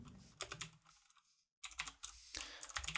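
Code being typed on a computer keyboard makes quick, close key clatter in two bursts, broken by a brief silent pause.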